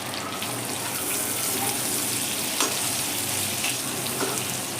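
Stuffed brinjal fries in a pan over a lowered gas flame, giving a steady, close sizzle with a few faint scrapes and small clinks over the crackle.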